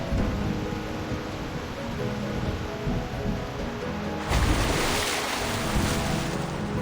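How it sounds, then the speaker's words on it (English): Rushing sea waves in Reverse 1999, a broad continuous roar of surf that swells louder midway, with no voices. "the girl's thin voice fades under the rush of waves"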